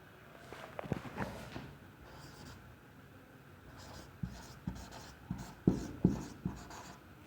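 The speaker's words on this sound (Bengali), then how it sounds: "আমি লিখলাম আ রেড পেন" A pen writes on paper close by, giving a run of quick scratchy strokes and light taps, with firmer clicks toward the end and no talking.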